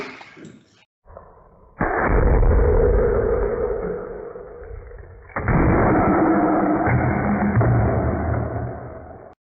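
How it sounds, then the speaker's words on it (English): Alcohol ignited inside a bottle launches a paper cup rocket: a sharp pop is followed by a loud, steady rushing roar of venting combustion gas lasting several seconds, with a second louder burst partway through. "when the alcohol is burned, the combustion gases are vented through the holes of the bottle and forces the cup to fly"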